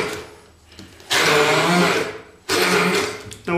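Short bursts from a handheld blender whizzing basil leaves into pesto, loud and close, switching on and off in two main pulses with a brief third start at the end.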